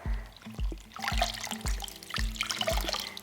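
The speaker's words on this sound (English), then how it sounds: "the scarf that I tied with the lollipop sticks, squeezing out all the water" Water is wrung from a tie-dyed scarf bound with lollipop sticks over a natural indigo dye vat, coming as repeated gushing trickles and splashes in quick bursts, close and fairly quiet, with no talking.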